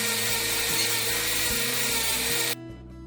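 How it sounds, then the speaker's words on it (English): A rotary tool cleans up the edges of a leather long wallet, producing a continuous buzzing grind with slight pitch shifts before cutting off abruptly near the end. "Use a piece of fine sandpaper or a rotary tool to clean up the edges."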